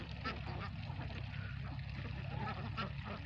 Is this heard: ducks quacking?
yes